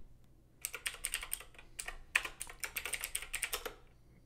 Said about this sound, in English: So for that, we type import module.